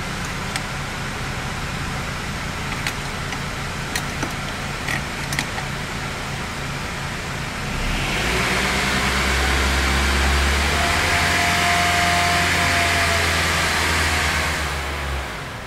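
A car engine held at about 2,500 RPM with the air conditioning running and the fan on low, a steady close hum and whoosh that swells and thickens partway through, then holds a constant drone.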